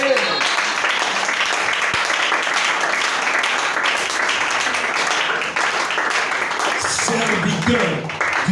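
A church congregation applauding and acclaiming God, sustained dense clapping with voices over it throughout, loud and continuous.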